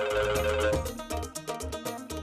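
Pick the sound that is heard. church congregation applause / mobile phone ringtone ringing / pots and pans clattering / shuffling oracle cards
mobile phone ringtone ringing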